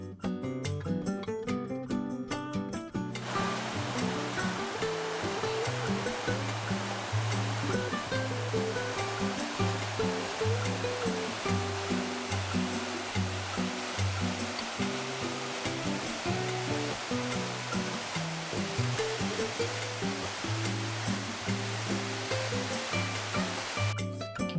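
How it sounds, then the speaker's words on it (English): Josefsthaler waterfall near Schliersee in the German mountains, water crashing over rocks in a steady, loud, continuous rush that holds throughout with no talk. "Water crashes over rocks, creating frothy veil that whisper away your daily worries."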